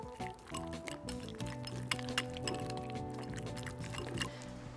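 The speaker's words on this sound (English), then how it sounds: "Just gonna whisk this together." A whisk clinks and swishes rapidly in a bowl, mixing chopped chives, fresh basil, salt and pepper, with soft wet stirring and light metallic taps against a faint background hum.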